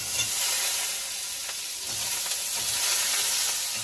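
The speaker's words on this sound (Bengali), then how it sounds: "এধারে পটলের আলুটা ভাজতে দেবো।" Potatoes for a pointed gourd dish frying in hot oil, giving a steady bright sizzle with occasional stirring, close and continuous with no talk.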